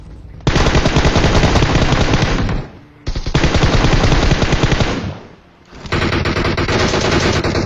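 Sustained automatic gunfire from a battle royale video game, loud and close, in long continuous bursts with two short dips, no talking.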